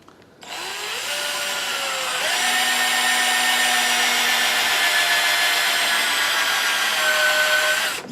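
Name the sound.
drilling a hole in a wooden box lid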